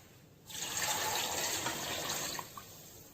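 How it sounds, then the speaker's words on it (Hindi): Water pours steadily into a cooker for a couple of seconds, a soft continuous splashing gush that tapers off at the end. "थोड़ा और डालूंगी मैं पानी।"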